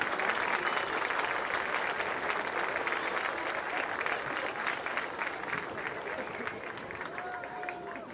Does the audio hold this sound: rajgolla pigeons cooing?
no